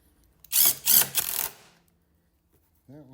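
While a starter is replaced on a Cub Cadet XT1 riding mower, bolts are tightened in three close, rapid bursts of metallic ratcheting clicks, followed by a brief tonal sound near the end.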